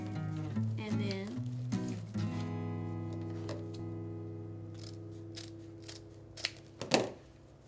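Scissors cutting a folded burlap strip for a chevron-edged wreath piece, a few short crisp snips and crunches near the end, with a voice talking over the first part.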